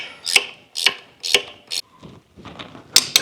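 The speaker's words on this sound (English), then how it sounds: "A half-inch ratcheting wrench works really good on this bottom bolt on the motor" A half-inch ratcheting wrench turns the bottom motor mount bolt on a Scout engine, making sharp, close ratchet clicks in a stroke-by-stroke rhythm with short gaps between pulls.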